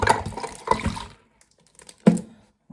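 Liquid poured out of a container while cleaning a Ropp Ambassade pipe, a close splashing gush for about a second, then silence, followed by a brief second splash.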